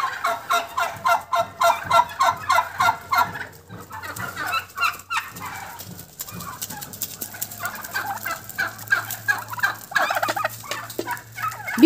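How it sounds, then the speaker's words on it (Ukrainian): Turkeys on a farm gobble in rapid, repeated bursts, loud and close, with chickens clucking among them and a low hum underneath. "Індик."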